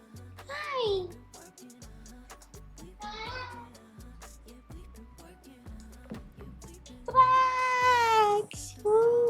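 A pet cat meows several times, short cries early on and then a louder, drawn-out meow followed by one more near the end, mixed with a person speaking softly to it.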